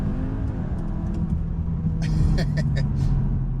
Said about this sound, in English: foot on the brake, launch control active. Let's see what she can do.